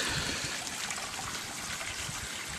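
A small stream feeding a koi pond trickles and babbles steadily and continuously at close range. The water sound is clear and alone, with no voices.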